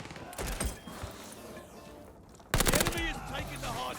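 A PPSh-41 submachine gun fires in Call of Duty Vanguard, with short sharp bursts early on and a dense, louder rattling burst in the second half, mixed with game noise and voices.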